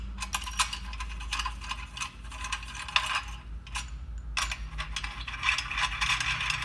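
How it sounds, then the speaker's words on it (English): Socket head screws removed from the outer piston cap of a volumetric pump, close mechanical ratcheting clicks and metallic ticks in irregular bursts with short pauses, no voices. "We'll remove the 4 socket head screws for the outside cap of the piston."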